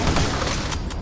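Barrels explode in Doom 3 in a dense, loud burst of blasts and crackling gunfire-like bangs filling the whole second.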